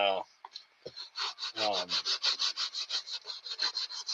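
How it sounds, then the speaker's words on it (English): A rotary tool sands rough wood with a rapid, rhythmic abrasive rubbing, close and steady, in regular strokes after a few brief bumps at the start. "Yeah, more sanding."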